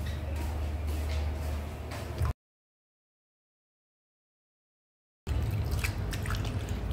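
Leafy greens are rinsed with water nearby, making splashing and dripping sounds in two bursts separated by a stretch of total silence.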